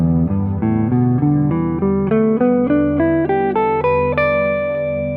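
A clean guitar plays single notes stepping steadily upward through a pentatonic scale across three octaves, each note ringing clearly.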